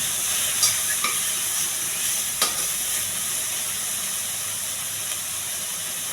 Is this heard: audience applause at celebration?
no